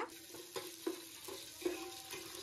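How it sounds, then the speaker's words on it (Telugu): Biryani spices and slit green chilies frying in hot oil, a soft continuous sizzle with light stirring taps at intervals, close but fairly quiet, with no voice. "ఇప్పుడు ఫస్ట్ అయితే బిర్యానీ స్పైసెస్ వేసుకుంటున్నాను."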